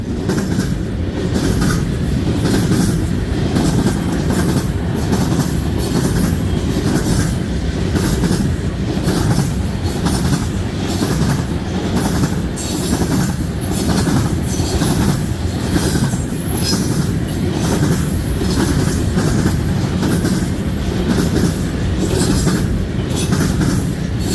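A long CN freight train, M340, rumbles steadily past close by at Ladysmith, Wisconsin, wheels clattering over rail joints with occasional metallic squeals, loud throughout.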